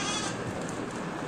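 Goats on a village farm bleat at breakfast time, several overlapping calls close by, set against a steady background hiss of the farmyard with no talking.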